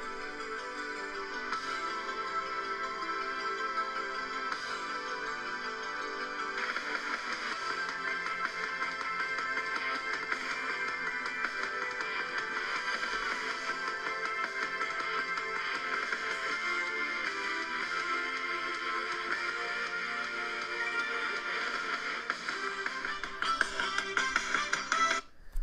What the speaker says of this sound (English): I'm gonna be listening to Dragon Slayer,